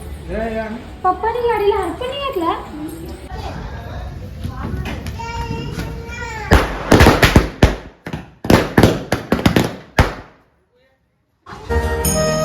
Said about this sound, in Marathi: पूजा आणि फटाक्या सुद्धा वाजू चला आता